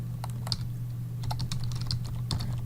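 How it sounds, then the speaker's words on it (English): Typing on a computer keyboard, a scattering of soft, irregular key clicks in short bursts over a faint steady hum. "here I'm going to type comparisons between GP"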